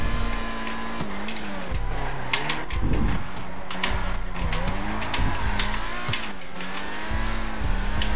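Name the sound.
old cars racing in a video game, engines and tires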